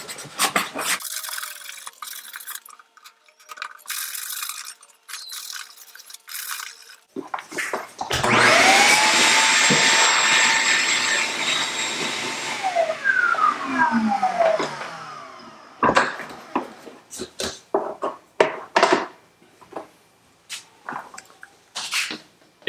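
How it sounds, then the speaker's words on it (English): A vacuum cleaner used to clean out a still air box for mushroom growing roars loud and steady for several seconds, its whine dropping as it shuts off, with bumps and clatter of handling before and after. "If you had your vacuum hooked up to blow instead of suck"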